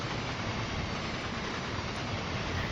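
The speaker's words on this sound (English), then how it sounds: "our noisy freight train turns up" A noisy freight train in the Train Sim World 6 game rumbles past in a dense, steady roar of engine and wheel noise, loud and unbroken for a few seconds.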